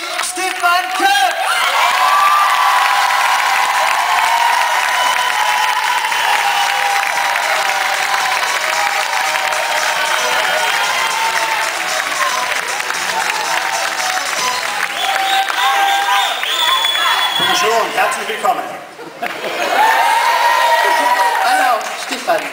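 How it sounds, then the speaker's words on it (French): Loud, sustained applause and cheering from a large crowd, with whoops and shouts rising over clapping that briefly dips then swells again. "Je vous demande d'accueillir sous vos applaudissements."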